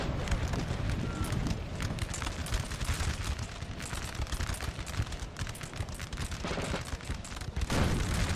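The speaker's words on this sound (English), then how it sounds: "There's even a Denmark artillery piece here, just firing down the side here against these Russians" Artillery firing in Napoleon: Total War, with booming cannon shots amid dense crackling musket volleys and battle din, continuous and fairly distant.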